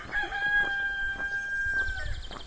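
A rooster crows one long, loud, drawn-out cock-a-doodle-doo lasting about two seconds, sitting up close over faint background noise.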